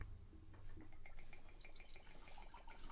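Whiskey from a numbered Barrell bottle poured into shot glasses, a soft liquid trickle with faint splashing and glugging at close range, fairly quiet and continuous for a few seconds.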